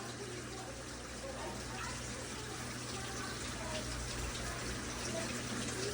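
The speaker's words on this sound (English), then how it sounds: "All you got to do is fill it up with water." A steady gushing stream of water pours into a 5-gallon potato-growing container, a constant rushing splash over low background hum, with no distinct speech.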